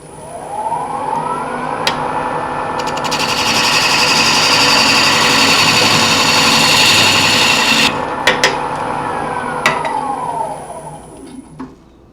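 A wood lathe spins steadily while a wooden vessel is turned, a loud continuous whirring drone with a brighter rasping band in the middle stretch and a few sharp clicks near the end before it winds down.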